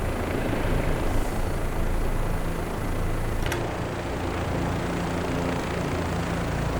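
An OH-58D Kiowa helicopter in a flight simulator game hums with a steady, continuous engine and rotor drone, a dense even roar that holds level throughout with no talking.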